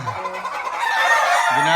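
Chickens cluck and a rooster crows in a gamefowl breeding section of pure street-breed hens, the calls close and loud with dense layered clucking and a crow rising over them.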